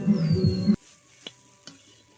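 A green pea and flour filling is stirred and fried in a wok, a close scraping sizzle that cuts off abruptly, followed by two faint clinks in near silence.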